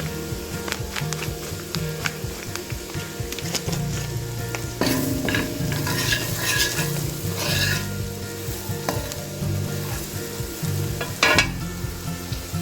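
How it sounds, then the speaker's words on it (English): Curry powder frying in hot oil in a pan while being stirred makes a loud, continuous close sizzle with scraping spoon strokes and occasional sharper crackles throughout. "I know you're seeing the sizzle"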